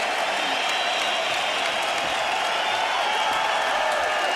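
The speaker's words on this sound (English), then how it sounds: "This crowd is standing on its feet." Loud, dense arena crowd at a UFC event in Germany cheering and applauding nonstop after a fight finish, a steady roar of claps and shouts.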